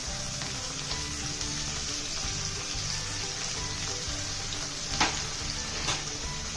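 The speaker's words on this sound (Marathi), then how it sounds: "ही व्यवस्थित अशी फ्राय करून घ्यायची आहे" Soaked dal frying with fenugreek in a pan, giving a continuous close, dense sizzle with a couple of sharp stirring knocks near the end.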